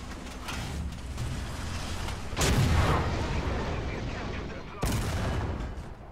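Tank cannon and gunfire in War Thunder realistic tank battles, two heavy booming shots a couple of seconds apart over a steady rumbling engine and battlefield noise.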